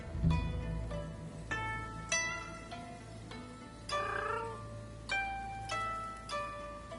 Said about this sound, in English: Do I hear a cat somewhere?